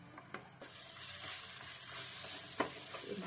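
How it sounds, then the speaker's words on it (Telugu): Masala with chilli powder, salt and turmeric fries in a pan for a sour curry, a soft, close hiss broken by scattered scrapes and taps of a stirring spoon. "ఈ మసాలా అంతా మంచిగా బాగా వేయించుకుందాము."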